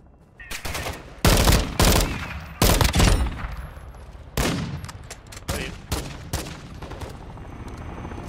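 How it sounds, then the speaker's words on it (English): Gunfire in the video game Call of Duty DMZ, a run of loud, sharp bursts and single shots trading back and forth, several heavy volleys in the first half fading to lighter, scattered fire. "Taking effective fire!"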